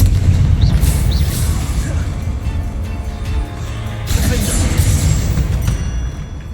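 A Confringo fire spell explodes in the video game Hogwarts Legacy, landing as deep booming blasts with crackling bursts, one near the start and another partway through, over dense game ambience.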